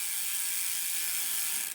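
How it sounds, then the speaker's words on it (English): Rear wheel of a bicycle with a Fast Ripper hub, clicking steadily as the gears switch and the freehub ratchets, a continuous close buzz of pawl clicks heard alone with no talking. "switching gears"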